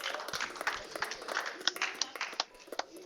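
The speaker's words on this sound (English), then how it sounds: "Have a round of applause, please." Audience applause at an Elite Pro-Am eight-ball pool tournament, a steady patter of hand claps with sharper individual claps standing out, moderately distant and fairly quiet.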